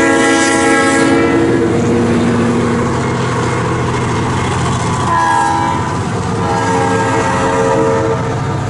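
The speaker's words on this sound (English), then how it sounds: "I don't know if I've ever been stopped by the train in these tracks" A train passes close by on the tracks, its horn blaring in long sustained blasts over a loud, steady rolling rumble of wheels and cars that lasts throughout.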